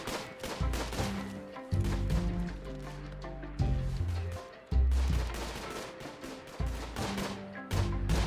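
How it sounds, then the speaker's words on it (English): Rapid bursts of gunfire in the colony-management game Rimworld, loud and dense with repeated volleys and booming low thumps landing every second or so, continuing without pause across the stretch. "Sound of gunfire intensifies."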